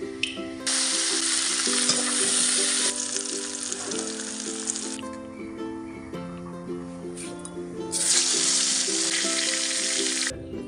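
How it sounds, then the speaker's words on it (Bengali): Cauliflower pieces coated in salt and turmeric fry in hot oil, loud crackling sizzle surging in bursts and easing between them, heard close over steady background music. "এবার হচ্ছে ফুলকপি ভাজা।"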